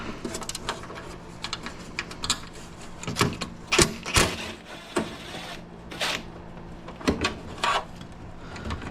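Screws being backed out of an MEP 803a generator panel: a close series of irregular metallic clicks, scrapes and ratcheting turns, moderately loud with short pauses between bursts.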